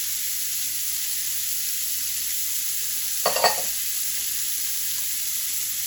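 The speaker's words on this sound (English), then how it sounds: "we're going to cook our veggies in that. All right, in goes our onion. And our celery." Onion and celery sizzling in rendered sausage fat in a pot for Cajun shrimp and sausage jambalaya, a steady frying hiss with one brief clattering burst as the vegetables go in, no talking.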